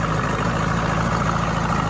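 A warmed-up 1965 75 hp Evinrude Electromatic outboard motor idles steadily, a continuous low even rumble with no talk over it.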